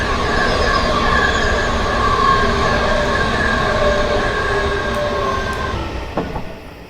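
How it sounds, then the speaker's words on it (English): A London Underground S8 stock train in the Train Simulator 2019 game, its steady motor whine and rumbling running noise loud and continuous, easing slightly near the end. "This is obviously the train that we're following."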